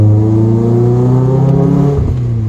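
Lotus Elise S2 sports car engine, light and 122 hp, revving hard under acceleration with a steady rising drone, near and loud, a brief dip around the two-second mark before climbing again.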